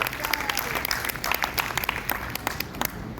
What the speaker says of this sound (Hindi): तो जोरदार तालियों से पंच तत्व के सितारों का भी स्वागत करते हैं